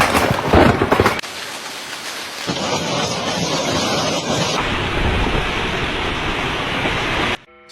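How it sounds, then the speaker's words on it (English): Heavy hail pours down in a violent storm, a dense loud roar of impacts that cuts between bursts of varying intensity before stopping abruptly. "roof tiles shattered as the hail poured down in heavy bursts"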